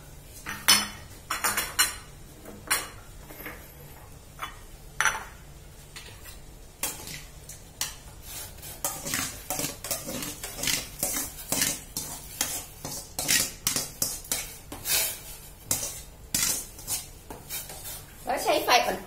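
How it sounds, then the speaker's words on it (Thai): A spoon stirs sago in a pot of water over low heat, making steady rhythmic scraping and clinking against the pot, close and fairly busy throughout. "แล้วใช้ไฟอ่อนๆค่อยๆคนไปนะคะจนกว่าตัวสาคูมันจะใสค่ะ"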